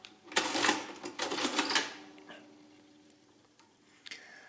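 A Barrett adding machine's mechanism clatters as the keyboard clears after an addition, a dense close burst of mechanical clicks and rattles that fades, followed by a lone faint click.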